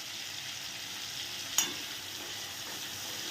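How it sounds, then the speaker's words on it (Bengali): Shrimp frying in hot oil gives a steady, even sizzle that stays moderately close and unbroken, with one brief sharp crackle or pop standing out partway through and no voices present. "চিংড়ি মাছ কিন্তু বেশিক্ষণ লাগে না তোমার মানে ভাজতে"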